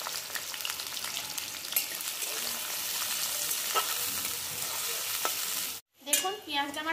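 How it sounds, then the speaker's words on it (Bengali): Chopped onions fry in mustard oil for a Bengali palak chicken, giving a steady close sizzle with soft stirring scrapes, then a brief cut to silence followed by a short clatter. "এবার আমি পেঁয়াজ কুচিগুলো এর মধ্যে দিয়ে দেবো, দিয়ে একটু হালকা লাল লাল করে ভেজে নেব"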